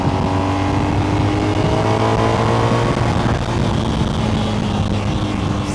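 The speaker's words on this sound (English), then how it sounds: "Now I'm going about 60 miles an hour. Engine's revving pretty hot." Motorcycle engine at about 60 mph, running hot with a loud, steady droning whine layered with heavy wind rush, slightly shifting pitch midway, with no talking.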